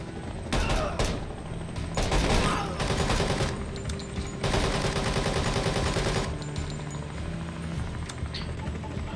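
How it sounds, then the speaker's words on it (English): Gunfire in the tactical shooter Door Kickers 2, rapid bursts and fusillades of automatic weapons crackling in close succession, loud and sustained across most of the stretch, with a few sharper isolated shots near the start. "Nice shooting, Zell."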